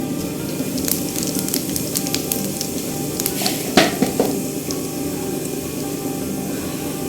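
Cumin seeds sizzle in hot oil for a tadka for chana dal gosht. A steady, close hiss continues throughout, with a few sharp spatters and a clink of a pan partway through.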